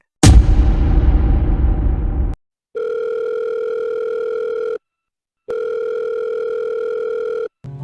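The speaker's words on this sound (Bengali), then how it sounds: "কনস্ট্যান্ট রিং হয়ে যাচ্ছে" A steady electronic telephone ringing tone sounds in two long bursts separated by a pause, following a brief loud noisy burst at the start; the call goes unanswered.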